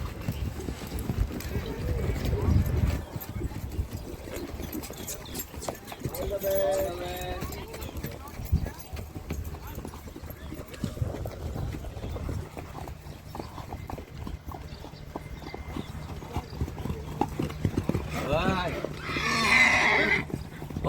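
Kutchi Sindhi horses at an equestrian event in Kutch, with steady clip-clop hoofbeats and repeated neighing and whinnying, a loud whinny near the end, under ongoing talk.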